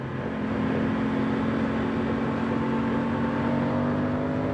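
Aprilia Tuono 660 Factory motorcycle engine droning at steady high revs, a continuous loud hum with a strong tonal whine that holds level throughout, with no speech.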